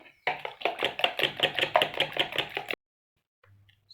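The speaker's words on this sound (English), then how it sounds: "We mix the eggs and the mixture totally." Eggs and cake batter being mixed in a bowl with a spoon, producing a fast, rhythmic clatter of taps for a couple of seconds that stops abruptly into near silence.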